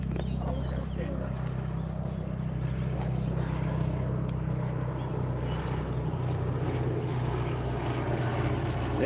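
A helicopter passes overhead outdoors, giving a continuous, steady rotor and engine drone that stays fairly constant through the whole stretch.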